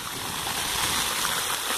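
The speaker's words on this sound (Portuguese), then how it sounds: "Porque com o barulho da água." Water splashing and rushing steadily in an interactive fountain at a thermal water park in Ibirá, a dense, continuous hiss close by with no voices.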